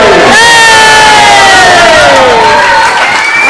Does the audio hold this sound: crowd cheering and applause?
yes